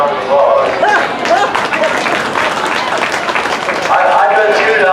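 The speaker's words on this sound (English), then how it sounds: "Let's give them a nice round of applause." Audience applause at a youth sheep show, steady clapping from a crowd lasting several seconds, with a voice speaking over it at the start and end.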